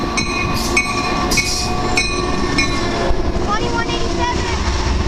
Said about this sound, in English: This train comes early.